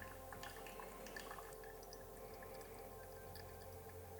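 Brewed pour-over coffee trickles through a wetted paper filter, making faint, scattered drips and soft liquid ticks, very quiet and close against a low background hum, with nobody speaking.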